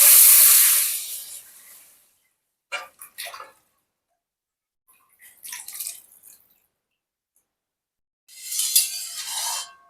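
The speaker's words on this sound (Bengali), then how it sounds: "এই দুধটাকে এবার এই কড়াইয়ের মধ্যে ঢেলে দেবো" Boiled cow's milk, about 1.5 litres, is poured into a kadai (wok) for sweet curd. A loud, hissing pour opens the sound, followed by several shorter splashing pours and drips at intervals, with no talking.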